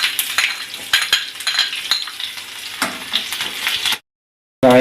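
Garlic, chopped green chili and mustard seeds fry in coconut oil, giving a close, bright sizzle with sharp crackles and pops and a few utensil clicks, then a brief silence near the end.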